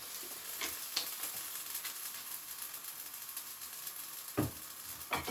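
Fajita vegetables sizzle in a hot pan, a steady close crackle with occasional louder scraping stirs and clatters of a utensil, no voices.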